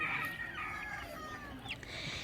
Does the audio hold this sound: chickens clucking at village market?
yes